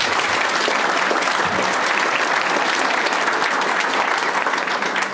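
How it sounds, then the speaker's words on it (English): An audience at a county sheriff's candidate debate breaks into loud, sustained applause after a candidate finishes speaking, a dense continuous roar of clapping close by. "everybody hold their applause until each candidate is finished"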